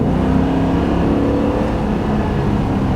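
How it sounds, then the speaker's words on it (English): Ford F350 pickup with a 7.3L gas engine accelerates with a loud, steady engine drone heard from inside the cab. "I'm gonna accelerate one more time."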